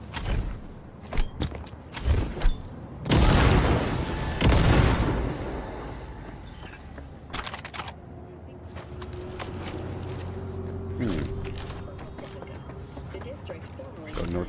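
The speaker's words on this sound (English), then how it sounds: "Trying to get some engineering XP by using grenades for a second." Grenade blasts in the video game Cyberpunk 2077, a few heavy booms clustered early, the loudest pair rolling out over a couple of seconds, followed by quieter mechanical game noise while a voice talks over parts.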